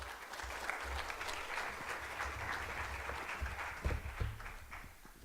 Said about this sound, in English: let's give another big applause.